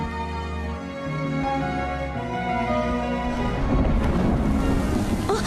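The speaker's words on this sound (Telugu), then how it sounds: "వర్షం ఒకటి పడుతుంది" Rain falls at night, a steady dense hiss with a low rumble underneath that swells louder and rougher toward the end.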